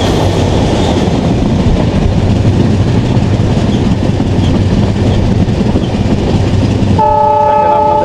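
A passenger train runs at speed along a railway in Bangladesh, carrying steady loud rumbling and rail noise throughout, with a sustained horn-like tone sounding near the end.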